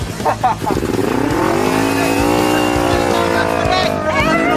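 Motorcycle revs up and rides off, its engine note climbing and holding steady while people talk over it nearby.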